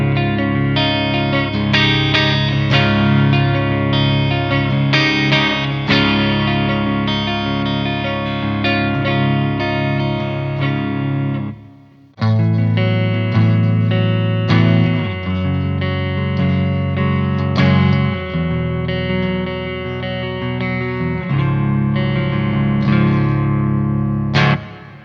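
Electric guitar through an EVH amp playing a clean, bright tone with a reverb wash, sustained chords and picked notes throughout, with a brief pause midway.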